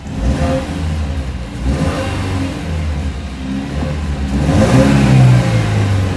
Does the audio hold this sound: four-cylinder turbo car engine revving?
yes